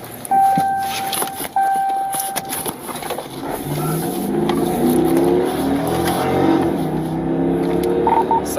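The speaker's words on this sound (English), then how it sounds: "Everybody keeps revving his engine here." A suspect's car engine revs and surges during a high-speed police chase, a loud, sustained rising drone with tonal beeps and clatter early on, heard from a dashcam.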